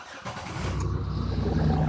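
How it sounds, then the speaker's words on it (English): A Chevy Impala engine cranks over and catches, rising into a steady, loud running rumble that continues to the end, close by with no talk. "I'm gonna start the car now."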